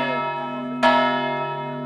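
One loud clang of a church bell struck in Granada, its rich ringing tone already humming beforehand and decaying slowly afterward, heard up close on its own.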